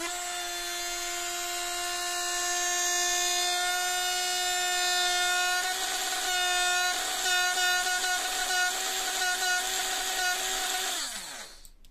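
A Lidl angle grinder, apparently cordless, runs steadily for about twelve seconds with a bright, whining motor tone that wavers slightly before it winds down at the end, with no talking.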